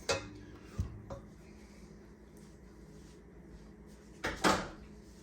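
A stand mixer paddle being scraped clean, with a few quiet scrapes and clinks near the start and a louder pair of scraping knocks toward the end, separated by near silence.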